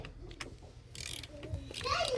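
A screwdriver unscrews a bracket from a PC case, close quiet ratcheting and metallic clicks with scraping, getting busier toward the end, while a voice is faintly heard.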